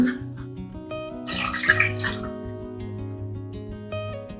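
Water poured into a cooking pot of green gram set to boil, a brief splashing gush in the middle over steady background music.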